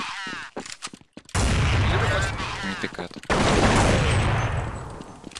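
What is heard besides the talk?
gunfire in a shooter video game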